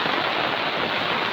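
Heavy rain pours at night, a dense, steady hiss of drops drumming on surfaces, close and unbroken throughout with no voices.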